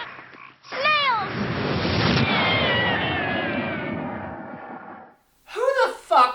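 A cat in The Worst Witch film meows and caterwauls loudly: a short yowl, then a long, drawn-out wailing cry. A brief pause follows, then two quick, sharp meows near the end.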